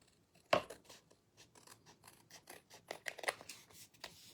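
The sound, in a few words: scissors trimming a paper card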